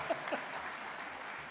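Applause from the audience at a Faculty of Health graduation ceremony, a steady wash of many hands clapping at moderate distance, with a couple of faint voice fragments near the start.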